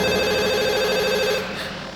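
A telephone rings with a steady, loud electronic tone that holds for most of the moment before fading slightly.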